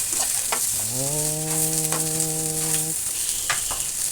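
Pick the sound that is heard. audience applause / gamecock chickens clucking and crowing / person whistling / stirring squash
stirring squash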